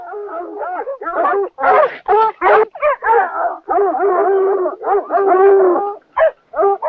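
A dog yelps, whines and howls in a rapid, agitated series of close vocalizations, rising and falling in pitch with short gaps.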